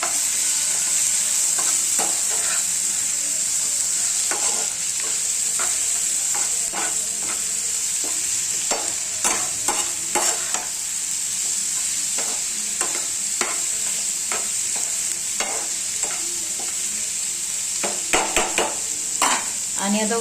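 Green chilies and mutton masala fry in hot oil, a constant loud sizzle with frequent scrapes and clinks of a spoon stirring the pan, close by and steady throughout.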